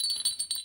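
Small metal crotal bell from a horse bridle, a metal detecting find, giving a few quick bright tinkling jingles as it is shaken, close and alone.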